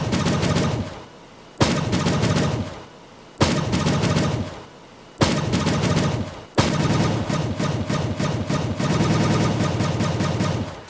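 Rapid weapon fire from Borderlands 3, edited to match a tune: dense, loud strings of shots in rhythmic phrases, separated by short pauses, then one longer sustained volley.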